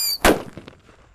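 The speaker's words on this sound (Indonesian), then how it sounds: "Namanya mercon Happy Power 3 atau mercon Whistling King Thunder guys, warna biru" A Happy Power 3 Whistling King Thunder firecracker goes off in one sharp, loud bang right after a brief high whistle, then its echo quickly fades.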